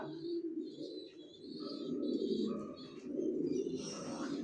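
Racer pigeons coo inside a breeding loft, soft rolling coos repeating close by with a few light chirps mixed in, fairly quiet and without talk.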